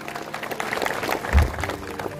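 Audience clapping at a Marathi political gathering in honour of a local taluka leader, a steady moderate patter of many hands with a brief thump midway, heard from a distance.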